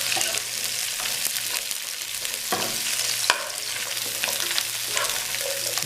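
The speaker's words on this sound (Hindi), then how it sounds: "ये डाल दूंगा और इसको तकरीबन 2 से 3 मिनट के लिए अच्छी तरह फ्राई करूंगा" About 300 g of chopped okra fries in a hot pan, a continuous close sizzle with scattered scraping stirs and occasional clinks.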